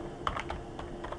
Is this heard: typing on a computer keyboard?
yes